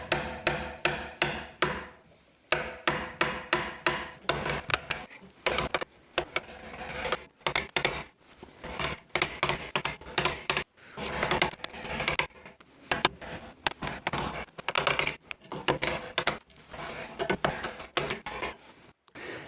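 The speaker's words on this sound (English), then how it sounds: "I just need to rasp it down to the rest of those lines" A rasp working a red oak recurve bow limb: irregular bursts of close, gritty scraping strokes, some quick and clustered, others spaced by short pauses, fairly quiet overall.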